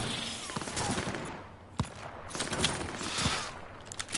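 Ashura sniper rifle fired in the video game Cyberpunk 2077, with a sharp shot near the two-second mark and another softer report later, over a busy layer of game noise and scattered pops.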